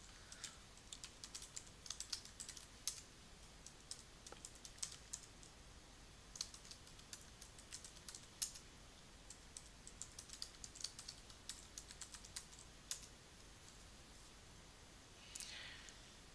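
Quiet, close typing on a computer keyboard as a username and password are entered, irregular bursts of light key clicks with short pauses, ending in a couple of isolated taps and a soft rustle.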